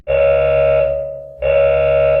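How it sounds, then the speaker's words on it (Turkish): A loud, harsh buzzing war alarm in Minecraft blares twice, a long sustained tone that fades briefly before restarting just as loud. "Bu bir savaş alarmı."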